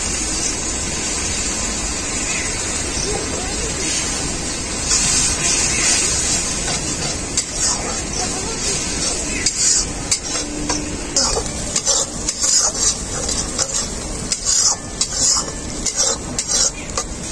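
A paste of ground cashews is stirred into spice mix frying in a pan, giving a steady loud sizzle with scraping and clinking of a utensil against the pan throughout.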